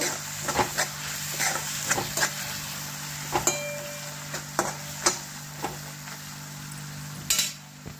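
Spoon stirring turmeric and masala into pasta in a pan, a series of scraping clinks against a steady low sizzle, no talk.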